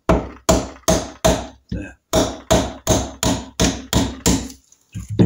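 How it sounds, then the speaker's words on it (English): A hammer tapping a large screwdriver used as a drift against a Norton Commando motorcycle crankcase, about ten loud, close, evenly spaced metallic blows with ringing decay, a brief pause partway, and a short spoken word near the end. "Then I very gently tap my special drift, otherwise known as a large screwdriver."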